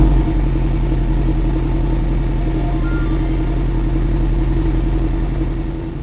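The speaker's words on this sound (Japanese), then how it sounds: "ではエンジン始動していきます。" A 2017 Porsche 718 Cayman engine starts and runs loudly and steadily up close, a deep rumbling drone that holds even throughout and eases slightly at the end.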